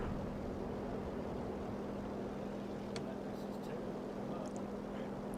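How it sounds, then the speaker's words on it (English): A propeller warplane engine drones steadily in a World War II flight combat game, a constant hum held throughout with faint higher clicks and blips on top, no talk over it. "listen to my engine"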